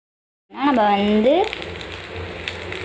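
Rice with masala hits a hot pan and sizzles loudly, a sharp burst of frying that settles into a steady crackle as it is stirred.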